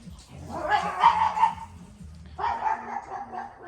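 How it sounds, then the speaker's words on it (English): Dogs bark outdoors in two rough bursts with a short gap between them, fairly loud and somewhat distant, while low background noise continues underneath. "Psycho dogs on motion."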